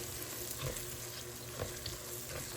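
Spices frying with cauliflower in a pan, a continuous close sizzle with soft scraping stirs that rise and fall in small bursts.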